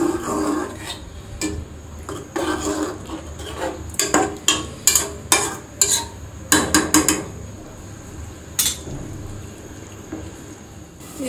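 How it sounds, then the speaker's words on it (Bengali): Haleem meat being stir-fried with spices in a pot: repeated close metallic scrapes and clanks of a spoon against the pot come in irregular bursts over a low background bubbling. "এটাতে আমি দিয়ে দিব হালিমের যে মাংসগুলো রেখেছি, ওই মাংসগুলো দিয়ে দিব, দিয়ে ভালো করে কষাই নিব।"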